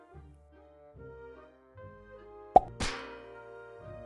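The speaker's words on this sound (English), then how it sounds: "It taps a pan. It is a din in a pan." A pan is struck in a children's cartoon, a single sharp metallic tap followed by a brighter ringing clang that fades, set against soft background music.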